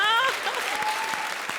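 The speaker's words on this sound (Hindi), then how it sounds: "जोरदार तालियां" Loud studio-audience applause on a TV comedy show, a dense burst of clapping with a short musical sting at the start and speech mixed in over the top.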